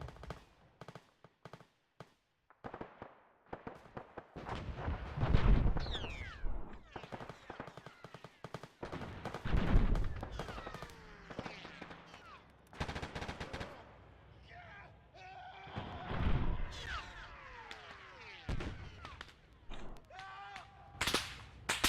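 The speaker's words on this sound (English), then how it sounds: "Keep pushing forward as artillery is coming down on the radio tower." Gunfire and artillery in Arma III: sharp cracks of rifle and machine-gun fire come in clusters, mixed with heavier booming impacts that rise and fade over time, with occasional radio-style voices among them.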